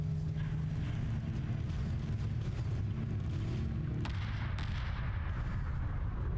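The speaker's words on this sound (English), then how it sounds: "Bombs are coming in." Bombs and explosions in the space strategy game Homeworld 2, a dense, continuous barrage of low booms and rumbling blasts with a couple of sharper bursts near the end, without any talking.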